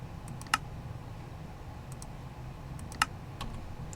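Computer keyboard typing, sparse sharp key clicks, two louder strikes among a few faint taps over a low steady hum, no talk.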